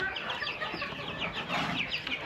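Fully grown bantam chickens cluck and chatter steadily in poultry pens, several birds close by in an overlapping, busy stream with no speech.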